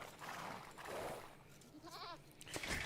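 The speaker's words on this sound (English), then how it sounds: "There's some goats back there." Goats in Age of Empires 2 give a faint, wavering bleat near the middle, heard over soft ambient game sound, followed by a brief higher chirp.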